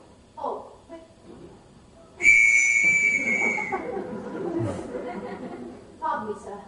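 A naval captain's whistle is blown in a stage production of The Sound of Music, one loud shrill sustained blast of over a second following brief speech, with a voice murmuring again afterward.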